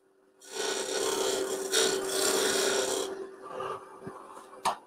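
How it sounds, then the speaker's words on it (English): Wood spins on a lathe as the corner of a parting tool cuts a dovetail for a candle stick, producing a steady hissing, scraping cut for a few seconds, then tapering off with a couple of sharp knocks. "just using the corner of my parting tool, tilt it over slightly to get a diamond sort of shape tool into that corner"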